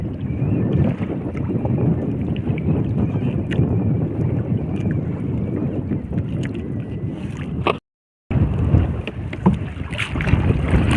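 Strong wind roars over open water around a small fishing boat on a rainy day, a loud steady rush buffeting the microphone with a brief dropout near the end.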